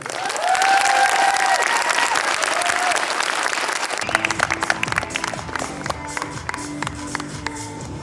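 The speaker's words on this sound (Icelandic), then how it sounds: "Látum við keppendur heyra með að klappa fyrir þeim." Spectators at the 2021 IFBB Icelandic fitness championship in Hof cultural centre, Akureyri, applaud 46 competitors on stage: loud, dense clapping with some cheering, then rhythmic music with a beat enters halfway and continues under thinning applause.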